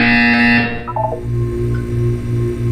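A sustained electronic buzzer tone sounds in the Portal 2 video game, holding steady over a low hum before a short descending run of beeps and a continuing droning background.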